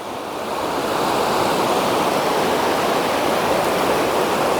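Sea waves surge at Karde Beach on the Konkan coast during high tide, a loud, continuous wash of surf that swells in the first second and then roars steadily, with no voices.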